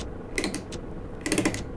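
The right turn signal of a Ford F-MAX truck ticks inside the cab, a few quick clicks in two short clusters over a low engine hum.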